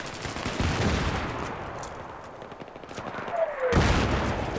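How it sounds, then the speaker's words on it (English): Mortar fire in Battlefield 3 multiplayer, with heavy booming blasts and dense crackling gunfire rolling together in a loud, sustained barrage, swelling again near the end. "that's our mortar, I think"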